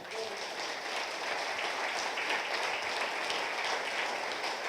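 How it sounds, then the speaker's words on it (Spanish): Church congregation applauding in a sustained, even wash of clapping that stays steady and fairly loud for the whole stretch, with no voice rising above it. "Le damos un homenaje de aplausos al Señor."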